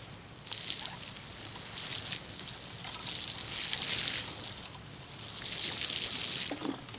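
Water sprinkling and splashing onto freshly sown seeds in garden soil, a steady, close hiss of spray that swells and eases in waves, alone with no voices.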